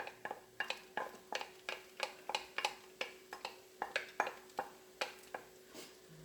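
Diced onions are stirred into a pot of vegan Zuppa Toscana soup, with a run of evenly spaced, sharp utensil clicks and scrapes against the pot, close and moderately quiet, alone without talk.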